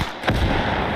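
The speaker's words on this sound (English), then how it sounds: "Want the howitzer to keep firing. Want to see it fire a big boom." Howitzer artillery firing in the World War II game Call to Arms: Gates of Hell Ostfront, a single loud boom about a third of a second in, followed by a heavy sustained rumble and battle din.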